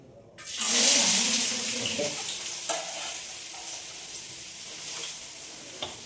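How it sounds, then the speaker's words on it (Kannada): Onions drop into hot oil for a North Karnataka style gobi manchurian, giving a sudden loud sizzle that settles into a steady frying hiss with occasional stirring clicks, no talking. "ಉಳ್ಳಾಗಡ್ಡೆ ಹಾಕಿ ಚೆಂದಾಗ ಸ್ವಲ್ಪ ಕೆಂಪಾಗೋವರೆಗೂ"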